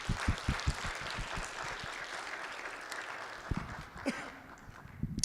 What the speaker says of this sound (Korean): 우리 하나님께 영광의 박수 올려드리기 원합니다